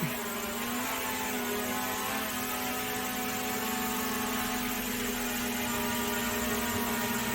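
A DJI Mavic Air 2 drone coming in to land, its steady high-pitched propeller buzz droning continuously and close throughout, with no talk over it.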